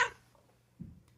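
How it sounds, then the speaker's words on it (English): A recorded cat meow set as a phone notification tone sounds as one bright, short burst at the start, then a fainter low murmur follows, with no talk over it. "It's my cat actually meowing, and I put it as notification"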